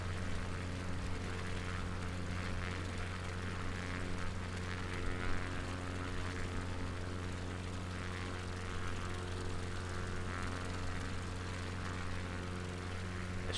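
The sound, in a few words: light aircraft flying, turning toward the airport to land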